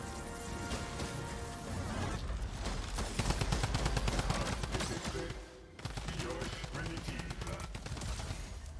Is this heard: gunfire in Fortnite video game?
yes